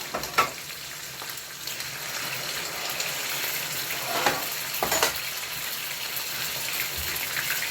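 Pieces of albacore fish fry in a pan with a steady, soft, close-up sizzle and crackle, punctuated by a few brief pops and clatters.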